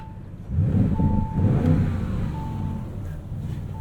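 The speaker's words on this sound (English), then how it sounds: "Really deep, rumbly exhaust from this 4-liter twin-turbo V8." A deep, rumbling exhaust from a 2024 Audi RS7's 4-liter twin-turbo V8 revving up close, swelling in loudness and then settling into a steady low drone.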